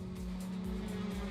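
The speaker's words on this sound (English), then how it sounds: "So a couple of cars coming here." Race cars approach in Assetto Corsa, a steady engine drone with a sustained tonal whine, faint and even, heard from a distance with no talking.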